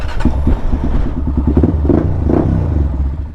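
A Honda 400EX ATV with a new exhaust, freshly dyno-tuned, runs loud and close, its single-cylinder engine thumping rapidly and rising in short revving surges with some mechanical clatter.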